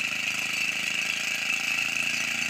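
A small engine with a missing throttle and governor runs steadily, a continuous even drone with a constant high whine layered above it, no voices.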